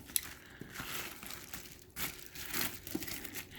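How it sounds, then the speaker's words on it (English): A blade slices packing tape on the cardboard box of a China Dress Tokisaki Kurumi anime figure, giving soft crinkling and tearing scrapes in a few short bursts, close and fairly quiet. "We'll go ahead and cut this tape here."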